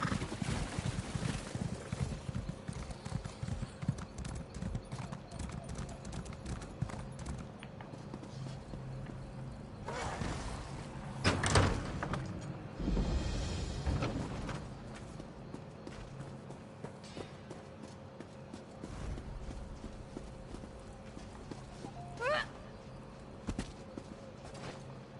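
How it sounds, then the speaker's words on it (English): A horse gallops through marsh in the Elder Scrolls Online video game, its rapid clip-clop hoofbeats running close and continuous, with watery splashes and a few brief louder bursts mixed in. "I don't know my horse can run through marsh, but let's try."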